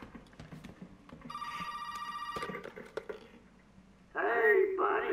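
An old telephone rings in the horror game Resident Evil 7, a bright electronic trill that sounds for about a second amid soft in-game noises, followed later by a person talking loudly.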